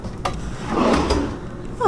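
A drawer slides open with a wooden rumble and a soft knock, close by in a hotel room at Universal's Aventura Hotel, followed by a brief scrape at the end.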